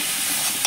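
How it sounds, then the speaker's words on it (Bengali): A spice paste of turmeric and chilli powder mixed with water sizzles while being stir-fried in a pan for a prawn and pointed gourd curry, giving a steady close hiss with one brief scrape near the end. "মশলাটা খুব ভালো করে কষে নিচ্ছে"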